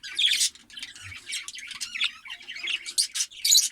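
A large male budgerigar gives close, repeated sharp squawks and chirps in quick irregular bursts, without pause, with no one talking.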